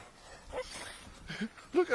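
A dog yips and barks in deep snow after a lake-effect snowstorm in Erie, Pennsylvania, a few short nearby barks at the end, mixed under people talking.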